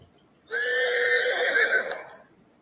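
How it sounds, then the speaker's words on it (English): A donkey sound effect plays during a live football betting stream: a single loud braying call of about two seconds, heard alone against near silence. "Nick, can you play the donkey sound for me so I don't?"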